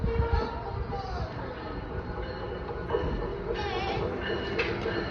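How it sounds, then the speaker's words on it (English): An Amtrak train arrives at New Carrollton station at night, its steady low rumble and rail noise rolling past at moderate distance, with someone talking over it. "Here comes the Amtrak train."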